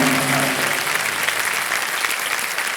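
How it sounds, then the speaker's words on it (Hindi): Sustained studio audience applause at a Kaun Banega Crorepati quiz show taping, dense and steady from start to end with faint tonal music underneath at the beginning. "ताली पहले बज गई।"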